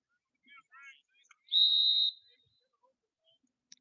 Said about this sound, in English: Whistle blows, and he runs it up the edge.